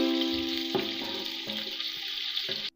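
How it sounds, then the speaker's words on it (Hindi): Sliced onions browning in hot oil for chicken pulao, a steady close sizzle with a few stirring scrapes and bumps, alone with no voices, ending abruptly. "और डाल देंगे 2 बड़े साइज के प्याज। प्याज को कर लेंगे ब्राउन।"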